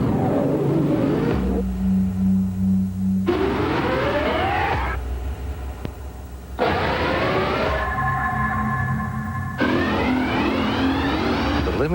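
1991 GMC Syclone sport truck driving, loud engine revving up through several gear changes with rising pitch sweeps, close and dominant under background music.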